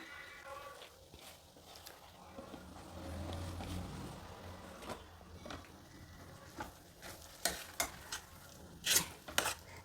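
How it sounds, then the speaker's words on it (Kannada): Soaked flattened rice (avalakki) stirred into a pan with moong dal for usali, giving soft scraping and shuffling, then louder spoon knocks and clatter toward the end, close by with faint frying underneath. "ಮಿಕ್ಸ್ ಮಾಡೋಣ ಈಗ ನೆನೆಸಿಟ್ಕೊಂಡಿರೋ ಅವಲಕ್ಕಿನ ಸೇರಿಸ್ತಾ ಇದ್ದೀನಿ"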